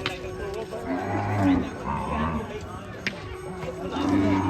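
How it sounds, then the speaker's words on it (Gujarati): Cows returning home at evening arti time in a village give low moos amid a busy outdoor scene, with people talking nearby and a few knocks and clatters. "સંધ્યા આરતીનો ટાઈમ છે અને ગાયો બધી જો વાળે જાય છે"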